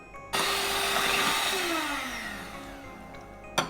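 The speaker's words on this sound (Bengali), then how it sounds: "দিয়ে আমি আবারও 1 মিনিট ব্লেন্ড করে নিব ভিউয়ার্স" An electric blender whirs loudly through orange cake batter in a home kitchen, starting abruptly, holding a high whine that slowly winds down, then a brief final burst at the end.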